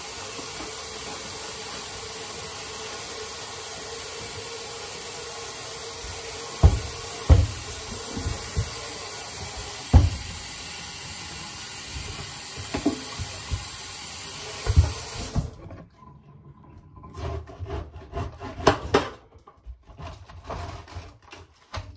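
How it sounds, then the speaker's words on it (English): Lettuce rinsed under a running kitchen tap, a steady hiss of flowing water with a few soft knocks and thumps, cutting off near the end and leaving quieter handling sounds. "I'm just gonna go ahead and rinse out the rest of it."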